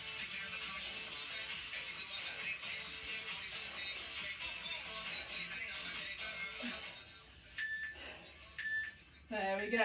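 During a kettlebell workout, an interval timer gives two or three short, clear electronic beeps near the end, over a steady background noise with a voice heard toward the close.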